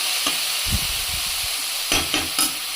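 Beetroot fries in oil in a pan, giving a steady close sizzle and hiss with a few soft stirring scrapes and clacks.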